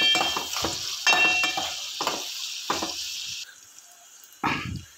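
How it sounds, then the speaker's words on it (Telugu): Onions frying in a pan for an Indian aloo potato curry, a steady bright sizzle broken by repeated stirring scrapes and clatters, close and loud with no talking. "తర్వాత ఈ ఆనియన్స్ని బాగా ఫ్రై చేసుకోవాలండి, కలర్ చేంజ్ అయ్యి గోల్డెన్ కలర్ వచ్చే వరకు"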